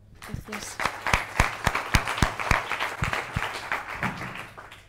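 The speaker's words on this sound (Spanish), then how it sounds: "un aplauso a Mariam" A small seminar audience at a university research talk claps in a sparse, uneven patter of distinct hand strikes that builds briefly and then thins out, with a voice heard faintly underneath.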